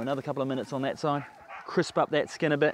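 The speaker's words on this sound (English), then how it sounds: "So you can hear the dogs in the background there." Dogs bark and yip faintly in the background at feeding time while catfish cooks outdoors. A person speaks up close over them the whole time.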